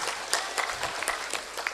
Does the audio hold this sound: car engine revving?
no